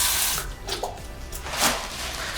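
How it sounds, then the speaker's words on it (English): A tap runs steadily with warm water for handwashing. The water makes a continuous splashing hiss with small surges and spatters as hands move under the stream. "Wash your hands thoroughly with warm soapy water."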